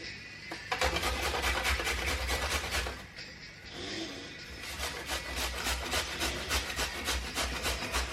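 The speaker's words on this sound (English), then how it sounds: "I'm going to grate it, mix it together" Close rasping strokes of food being grated on a grater for an apple slaw, a fast steady rhythm that pauses briefly midway and then resumes.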